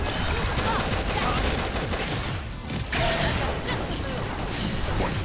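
Dense, continuous gunfire and blasts from a Skell mech battle in Xenoblade Chronicles X Definitive Edition, loud rapid shots with crashes and whooshes layered over game music, with a player's voice briefly heard.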